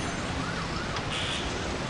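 Ambulance siren from the Emergency 4 video game wails continuously through steady game ambience, moderately loud and unbroken over the short stretch.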